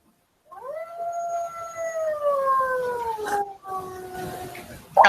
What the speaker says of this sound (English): I love the dog howl.